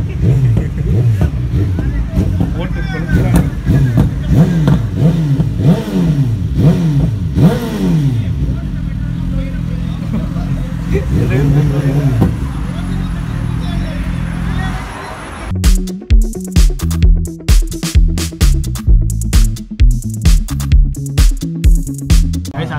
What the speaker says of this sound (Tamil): டுக்காட்டினாலே அந்த ரா பவர் அந்த சவுண்டு மரண மாசாக இருக்கு.